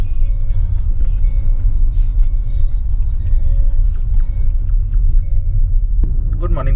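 Car on an off-road forest track on a road trip from Hyderabad to Srisailam: a constant heavy low engine and tyre rumble heard from inside the car, close and loud, with light rattles near the end.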